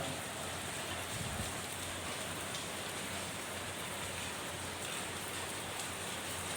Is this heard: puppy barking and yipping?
no